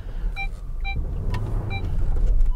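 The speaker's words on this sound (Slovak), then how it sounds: "Tak toto si môžete v offroade užiť zvuk nasratého 8 valca." A Lamborghini Urus V8 SUV crawls off-road, its deep engine rumble running steadily and swelling toward the end, while a few short electronic warning beeps chime in repeating pairs.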